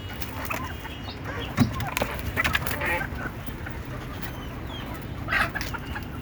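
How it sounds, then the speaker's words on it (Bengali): Native Bangladeshi desi chickens cluck around a backyard flock, with scattered short calls and squawks at moderate distance over steady outdoor background noise. "এই যে দেখেন, আমার সবগুলো দেশি মুরগি।"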